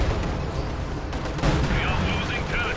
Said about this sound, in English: is that zeroing artillery?